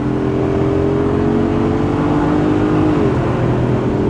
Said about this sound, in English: delicious V8 thunder wasn't the only noise we heard